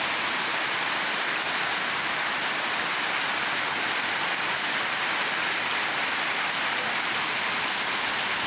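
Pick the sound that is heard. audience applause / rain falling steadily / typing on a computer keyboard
rain falling steadily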